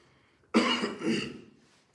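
A single short, harsh cough, close and fairly loud, fading into a breathy tail with quiet around it.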